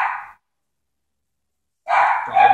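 Dog in a home kitchen giving two short barking bursts, a brief yap followed after a pause by a louder, fuller bark.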